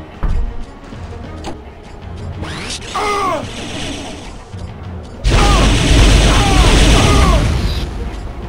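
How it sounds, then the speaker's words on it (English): Scorpion missile launcher in the video game Turok 2 firing: a burst of mechanical clanks and whooshing launches around the three-second mark, then a louder, sustained roar of rockets and explosions with repeated chirping tones through the end. "Scorpion missile launcher."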